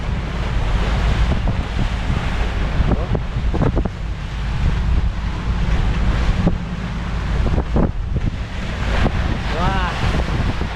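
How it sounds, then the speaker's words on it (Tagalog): Large ocean waves roll and crash in quick succession while strong wind buffets the microphone aboard a small outrigger boat, a constant loud roar with heavy low rumble and occasional splashes. "kita talaga naman po yung alon, halos sunod-sunod oh"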